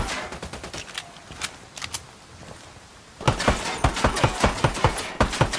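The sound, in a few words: gunfire from a checkpoint in video game Ghost Recon Wildlands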